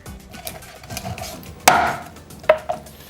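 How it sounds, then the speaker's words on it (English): Raw chicken thigh and leg chopped with a knife on a board: two loud, sharp cleaver chops with ringing impacts, preceded by quieter handling and light cutting sounds, no talking. "If the thigh is too big, you can always chop it to your liking."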